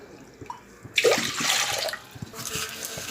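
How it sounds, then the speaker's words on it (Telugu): Water splashes into a cooking pot on a stove, a brief rushing pour that starts suddenly, swells and then eases into trickling, close and fairly loud against a quiet kitchen. "ఇప్పుడు ఆ గ్లాస్ తోటి వాటర్ పోసుకుందామండి"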